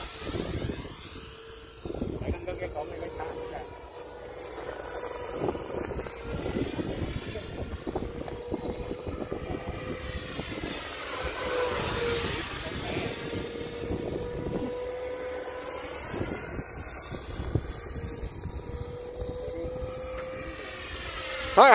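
Electric ducted fan RC model plane, a Flerken, flying a low pass and coming in to land at a flying field, its steady whining drone rising and falling as it passes, with faint voices in the background.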